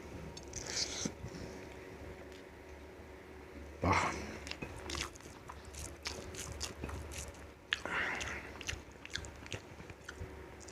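Someone eats mutton biryani with rice mixed into mutton gravy, chewing close to the mic. The soft, wet chewing and occasional crunchy bites run over a steady background hum.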